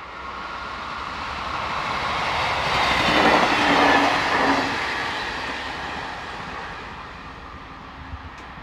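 A Class X4500 diesel railcar unit passes on the line near Culmont-Chalindrey in France, a continuous rumble and rail hiss that swells as it draws near, peaks midway, then slowly fades into the distance.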